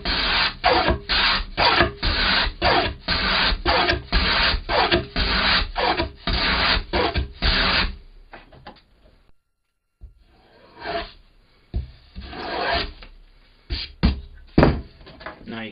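Rhythmic rasping strokes of a tool chamfering the upper lip of a wooden organ pipe, loud and close in an even run, then a pause and a few scattered scraping strokes.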